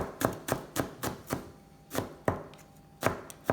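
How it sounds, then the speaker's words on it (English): Knife chopping garlic on a cutting board, a dozen or so crisp, close taps in a fairly steady rhythm with a brief pause midway, clean and alone. "So I'm gonna chop up this garlic as well, but not so fine like the onion."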